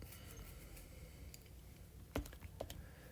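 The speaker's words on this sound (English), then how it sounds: "Get out my keyboard." Quiet computer-keyboard typing during a lecture: scattered soft key clicks over a low room hum, with a couple of sharper taps near the end.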